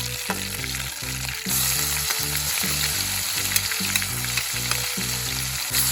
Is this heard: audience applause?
no